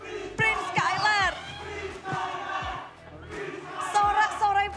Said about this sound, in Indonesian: Sorak-sorai Prince Skylar dari Sonic di sini.